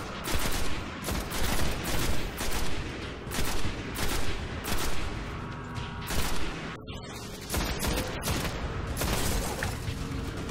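Sustained bursts of rapid gunfire in the sci-fi shooter Destiny, loud and near, repeating in pulses across a noisy firefight with no voices on top.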